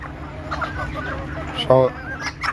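Desi chickens cluck softly in short, scattered calls close by, with one louder squawk partway through, over a quiet background.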